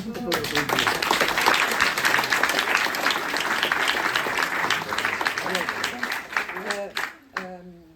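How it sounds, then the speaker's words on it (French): Steady applause from an audience at an art exhibition opening fills most of the stretch, with a few voices talking over it before the clapping thins out and fades near the end. "on peut l'applaudir"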